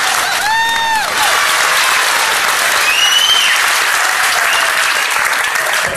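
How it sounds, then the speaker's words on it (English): A congregation at an interfaith service applauds loudly and steadily in thanks to the NYPD, a dense wash of clapping from a large crowd with a few brief whistles rising above it. "Let's give them a hand clap."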